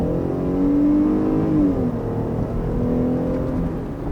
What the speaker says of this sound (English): We're not in sport mode this time, so we're just gonna go ahead and floor it